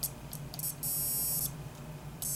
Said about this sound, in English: when the circuit is closed, you can see that light comes on and makes a beeping noise